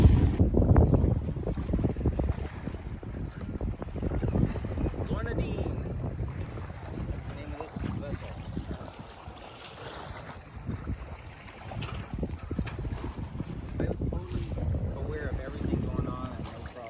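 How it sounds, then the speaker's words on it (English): Wind buffets the microphone while boating on rolling sea swells off Honolulu, gusty rumbling roar rising and falling throughout with water sloshing beneath and voices talking over it. "Get some rollers here, but feeling the wind."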